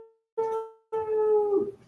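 A dog howls close by in two long, wavering cries separated by a brief pause, heard alone in an otherwise quiet room.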